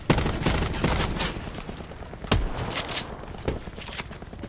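Gunfire in the Blackout video game mode comes as rapid bursts of sharp shots, some tight and automatic, others spaced apart, loud and close throughout.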